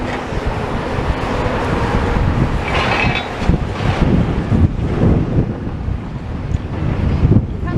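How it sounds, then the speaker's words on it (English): Strong wind buffets the microphone in a constant roaring rush, with gusts swelling and fading throughout, loud and close. "Windy."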